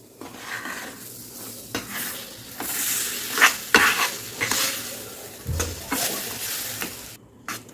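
Semolina and mango juice stirred together in a pan over a low flame for mango puran poli, giving a soft sizzle under irregular scraping strokes and occasional clinks of spoon against metal, no voices.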